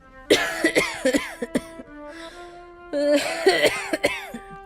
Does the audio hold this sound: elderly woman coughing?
yes